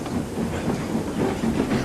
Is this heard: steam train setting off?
yes